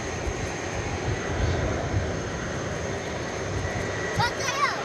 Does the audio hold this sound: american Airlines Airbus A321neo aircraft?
yes